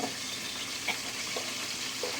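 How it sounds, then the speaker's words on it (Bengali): Panch phoron spices sizzle faintly in hot mustard oil in a wok, a soft steady frying hiss with a few small pops and crackles and no talk. "তো কড়াইতে একটু 5 ফোড়ন দিয়ে দিই"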